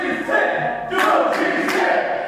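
Crowd at a UK wrestling show, a mix of cheering and shouting voices rising in swells, with a commentator's voice on top.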